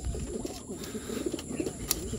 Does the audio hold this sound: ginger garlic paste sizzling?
no